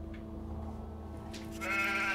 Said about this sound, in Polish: Jakby owca mi się zrespiła przed twarzą.